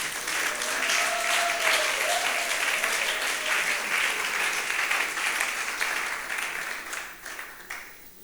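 Church congregation applauding and cheering for the Lord at a French-language sermon: loud, continuous clapping with scattered cheers and a voice calling out, fading toward the end.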